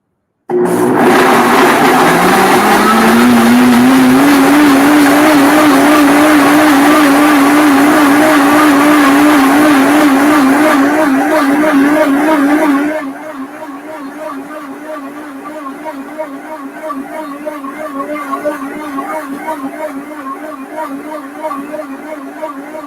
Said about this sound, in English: And the pureeing is going to begin. It will be noisy for a couple of minutes